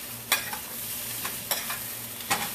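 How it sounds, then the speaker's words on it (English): Vegetables including eggplant being stirred in a frying pan for a chicken and eggplant dish, a few distinct scraping stirs at spaced intervals over a soft, steady low sizzle, close and moderately quiet. "Veggies, keep stirring our veggies here."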